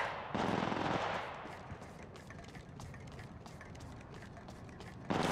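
Rapid automatic gunfire from the Apex Legends Mobile game rattles in a dense burst, then eases into scattered, quieter shots and a final loud crack.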